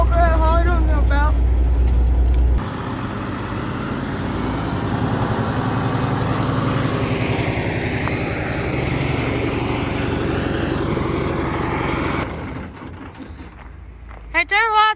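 A Kenworth W900 truck with a Detroit engine idles, loud and close, with a steady throbbing rumble that continues for most of the clip. People talk over it at the start and end.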